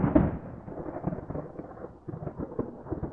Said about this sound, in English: Is there a storm rolling in? I thought it was supposed to be sunny today.